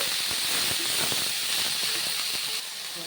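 Garlic frying in hot oil with a steady broadband hiss and scattered crackling pops, continuous and fairly close, easing slightly near the end.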